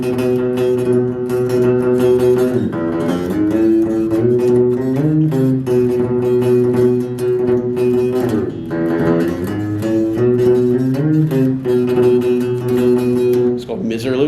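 An electric guitar plays a fast, tremolo-picked surf riff with sliding bends, loud and sustained throughout, no voices.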